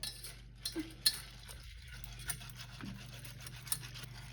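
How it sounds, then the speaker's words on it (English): A utensil stirs muffin batter in a bowl after one and a half cups of buds are folded in. The scraping is soft and faint, with a few light clinks scattered across a few seconds. "We're going to mix it a little."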